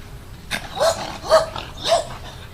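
A dog at a dog-friendly pension barks three times at fairly close range, sharp yelping barks spaced about half a second apart over a quiet background.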